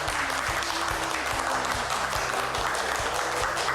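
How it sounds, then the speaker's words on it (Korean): An audience claps steadily to welcome a lecturer, a member of the presidential committee on autonomy and decentralization, onto the stage of a Korean broadcast lecture, a continuous wash of applause over background music. "박수 부탁드립니다"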